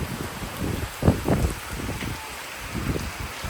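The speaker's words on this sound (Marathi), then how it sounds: "पाऊस आलाय बघा जोरात आहे एकदम" Heavy rain pours down in the Konkan region with a constant wash of noise, mixed with gusts of wind buffeting the microphone.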